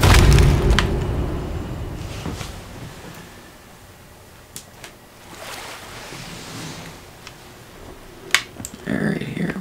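A ship's cannon in the pirate game Sea of Thieves fires with a loud boom at the start, followed by the wash of ocean waves and wind, with a few sharp knocks and players talking.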